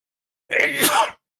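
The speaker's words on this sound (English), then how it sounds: "Sorry, I'm going to sneeze." A single short, sharp sneeze, close and abrupt, with silence before and after.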